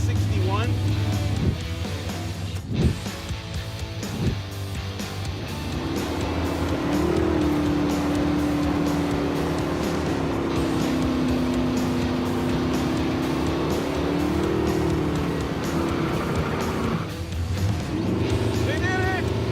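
An old-school Firebird races down a historic 1960s drag strip, its engine a sustained, loud roar with a long rising tone near the middle, heard under continuous talking.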